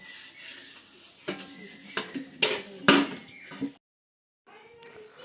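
Cooking utensils scrubbed by hand, a run of rough rubbing strokes and clanking metal knocks building in loudness, then a sudden stop and a brief quiet return of fainter scraping.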